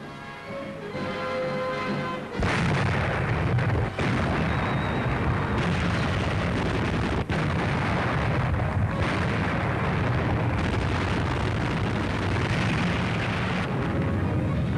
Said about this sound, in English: watching the bombardment before the landings